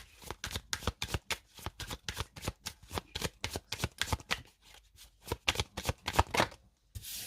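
Tarot cards from the major arcana shuffled by hand in a quick, steady run of crisp riffling bursts, close and clear with no voices.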